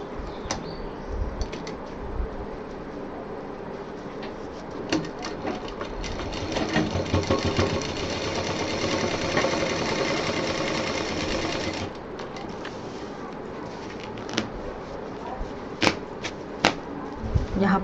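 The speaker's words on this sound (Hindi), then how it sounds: "यहाँ पर डबल सिलाई चलाएं।" A sewing machine runs a double stitch on a DIY designer bottle case, a dense steady whirring burst in the middle, with intermittent clicks and softer stitching before and after, close and alone.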